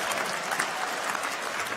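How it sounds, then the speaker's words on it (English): A graduation ceremony crowd claps steadily, a dense wash of applause at moderate distance with no break. "Give him another round of applause, please."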